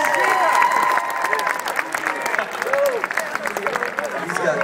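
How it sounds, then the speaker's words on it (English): Audience applause for a production manager at a Jam Nation Q&A event in Greensboro, a steady dense round of clapping with voices and chatter mixed through it. "Everybody give a big round of applause for Jerry over here."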